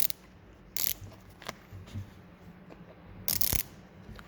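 A ratcheting mount is cranked tight on a Hokan saddle bag, giving short bursts of clicking pawl ratchets at uneven intervals with quieter handling noises in between, heard up close and with no talking.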